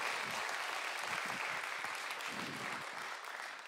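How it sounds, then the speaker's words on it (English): Concert audience clapping at a radio show in December 2022, a dense sustained wash of applause that holds steady before easing slightly toward the end. "A bit of a round of applause for Aidan's mental health."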